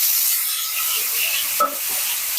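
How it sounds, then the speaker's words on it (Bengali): Batter of ripe palm fruit for a traditional village pitha hits an oiled hot tawa, a steady bright sizzle running throughout with a brief soft clink midway, close and alone. "এবার গোলানো ব্যাটারটি হাতায় করে অল্প করে তাওয়ার উপর দিয়ে দেবো"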